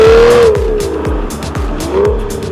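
An Aston Martin Virage engine revs hard and accelerates past 4000 rpm, its note rising in a loud, sustained, sweeping tone with repeated surges as the car pulls, close and continuous with no voices.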